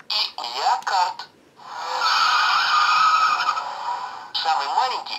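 A rally sports car from a children's musical sound book skids in one long, loud tire screech, bracketed by short bursts of speech before and after.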